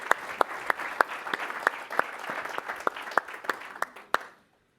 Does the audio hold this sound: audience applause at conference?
yes